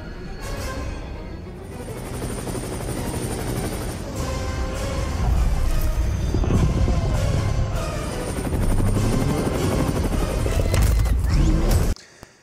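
Helicopter flying in a Godzilla x Kong film scene, a loud continuous rotor thrum mixed with dense action-scene noise and rattling effects that cut off abruptly near the end.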